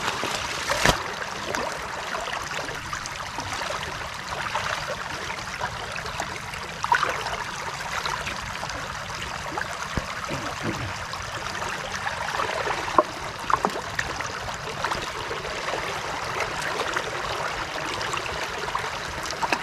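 Water held back by stones and a sack flows and trickles into a rice paddy for irrigation, a steady nearby babbling stream with occasional small splashes and no talking.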